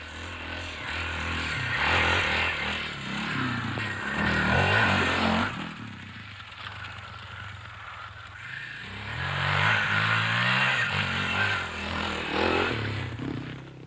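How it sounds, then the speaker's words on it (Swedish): A water-cooled two-stroke racing motorcycle engine buzzes and revs on a test track, rising and falling as the bike passes, with a harsh high-pitched whine and no talking. "Det är en helt ny serie tävlingsmotorcyklar med modifierad bakgaffel, monochockstötdämpare och motorn en vattenkyld tvåtaktare"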